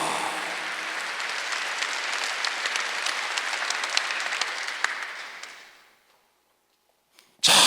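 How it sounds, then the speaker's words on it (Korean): A church congregation at a Korean Sunday worship service claps together in steady, dense applause for several seconds. The clapping then fades to silence, and a brief loud burst follows at the very end. "박수하세요"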